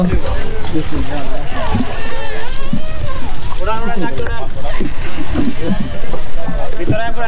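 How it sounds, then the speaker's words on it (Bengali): A speedboat runs across open water with a loud, constant roar of engine and wind buffeting the microphone, while people talk over the noise. "আমরা সবাই এখন স্পিডবোটে উঠে যাচ্ছি"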